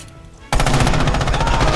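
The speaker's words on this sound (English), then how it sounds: "And I got shot at." Rapid automatic gunfire in the World War II shooter Red Orchestra 2: Heroes of Stalingrad bursts in abruptly after a quiet half second, a loud, close, fast rattling stream of shots with no speech.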